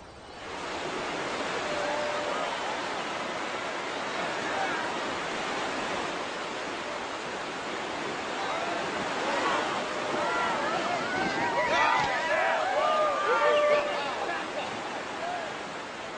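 Whitewater on the Cache La Poudre River in Colorado rushes as a constant broad roar, with a voice narrating over it and a few brief higher splashes near the end.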